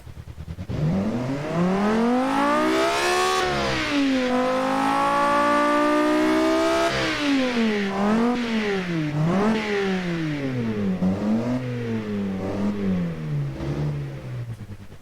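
A 576 hp sedan in the Automation/BeamNG driving game revs hard and loud, its engine pitch climbing, holding, dropping and then rising and falling in several quick blips, with no talk.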